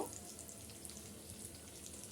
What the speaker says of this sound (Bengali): এখানে দেখেন আমার কিন্তু সম্পূর্ণ এটা গোল্ডেন ব্রাউন করে ভাজা হয়ে গেছে